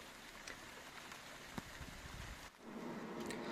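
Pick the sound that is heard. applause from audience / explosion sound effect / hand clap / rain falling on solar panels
rain falling on solar panels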